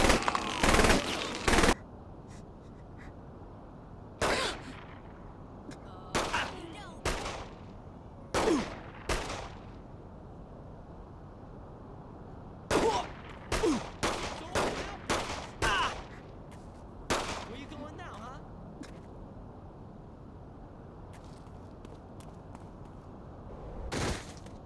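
Gunfire in the Saints Row video game: a long series of sharp shots and short bursts, some single, some in rapid clusters, spaced across the scene over a low steady game background.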